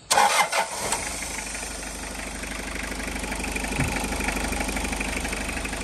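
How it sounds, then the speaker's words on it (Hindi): A Toyota Corolla 20D saloon's engine cranks and catches with a sharp burst, then settles into a steady, even idle that continues unbroken, close and fairly loud with no talking. "ये गाड़ी की स्टार्टिंग"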